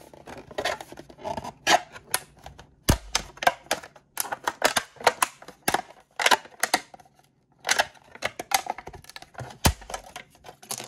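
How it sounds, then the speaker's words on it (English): Scored plastic is bent back and forth until it snaps along a clean line while an armour prop is being built, giving dense, sharp cracking and clicking bursts up close with brief pauses. "all I need to do then is just fatigue the plastic"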